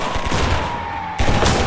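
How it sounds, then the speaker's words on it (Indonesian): Machine gun fire in the Roblox shooter Shell Shock rattles in a dense, continuous burst, loud and close, briefly thinning before a fresh volley. "Machine gun, wow."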